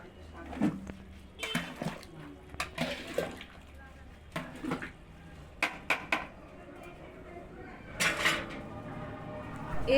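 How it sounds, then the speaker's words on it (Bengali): A metal spoon scrapes and clanks against a wok as cooked jackfruit curry is moved into another wok, with sporadic knocks and clatters while a voice talks over the kitchen noise. "এঁচড় কমপ্লিট তাই এঁচড় নামিয়ে নিচ্ছি পাশের কড়াইতে"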